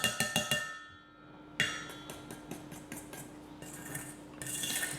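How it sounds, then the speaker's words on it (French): A utensil clinks and scrapes against a bowl while stirring donut batter of butter, flour and baking soda, with rapid ringing taps at first, a short pause, then steady scraping strokes and clinks, close by. "Et pareil, on touille."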